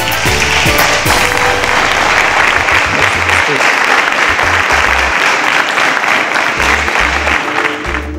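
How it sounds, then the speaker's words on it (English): A studio audience at a competition show gives a loud, sustained round of applause, dense clapping filling the whole stretch with music pulsing underneath and brief voices mixed in. "A round of applause for her"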